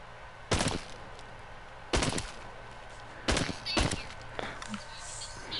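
Gunshots in the VR zombie shooter Arizona Sunshine, four or five sharp, loud bangs fired in irregular bursts over a steady game background.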